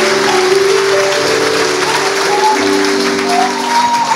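A church congregation applauds and acclaims the Lord in a steady, dense wash of clapping that lasts throughout, with sustained keyboard tones underneath and no speech.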